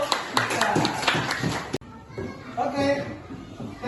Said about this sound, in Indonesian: Tepuk tangan dulu untuk Jovita